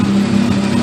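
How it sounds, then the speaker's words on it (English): Mazda RX-8 rotary engine idling roughly with slight popping, a loud, close, steady low hum over a brief moment. "There's a little rough idle to it, a little popping."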